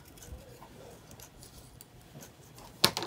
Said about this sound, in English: let's cut all these in half